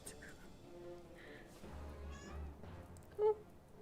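A pet cat meows once, short and fairly close, over a steady bed of fantasy role-playing game music and effects.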